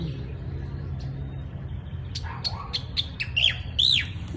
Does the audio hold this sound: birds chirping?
yes